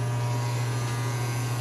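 A space heater runs in a room in winter, giving a steady close electrical hum with a buzzing edge and no change in level.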